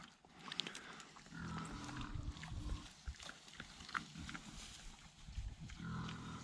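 Pigs on a farm grunting and squealing in repeated low bursts, fairly close, with a few sharper calls rising over a steady pen background.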